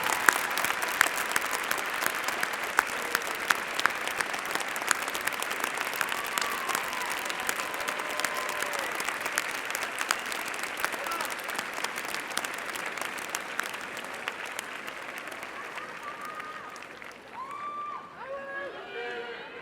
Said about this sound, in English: Please stand and give them a hearty cheer